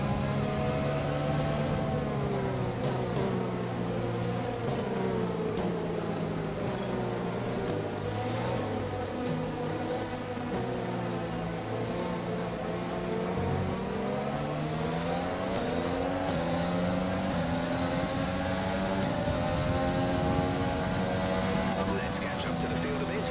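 A Formula 1 car in the F1 2020 game is held at full throttle at Bahrain behind a safety car. The engine whines steadily with rising and falling pitch sweeps, and a voice talks over it.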